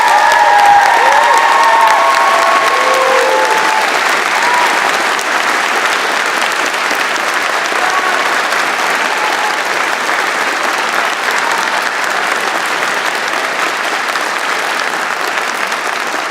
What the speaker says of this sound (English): graduates, a round of applause for the faculty members.